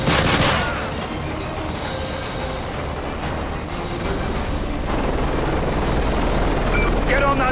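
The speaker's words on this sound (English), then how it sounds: "Get on that chopper and get out of there!" A helicopter in the video game Modern Warfare 3 roars loudly and continuously, its rotor wash and engine noise filling the scene, with a sharp impact at the start and battle noise behind it.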